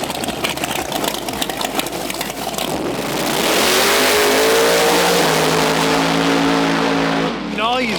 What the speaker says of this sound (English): Friday night Grudge Match drag racing.